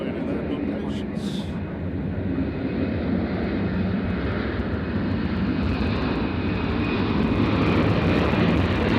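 Southwest airliner departing Nashville International Airport for LAX, a steady broadband engine roar that holds loud and constant throughout, with faint voices audible beneath it.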